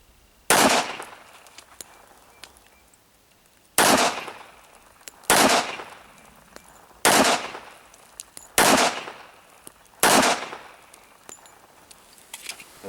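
Six sharp, loud gunshots from a Springfield Armory 1911-A1 pistol in .45 ACP, fired outdoors at targets at an uneven pace with short pauses between rounds, each crack trailing off in a brief echo.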